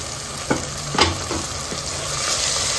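Halved medium tomatoes fry in a pan over a medium gas flame for a goat-head meat curry. A steady sizzle runs throughout, broken by a few distinct spoon scrapes and stirs.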